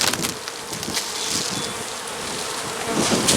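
Dense buzzing of many honey bees at a hive fills the air continuously, close and fairly loud, with light wind noise mixed in.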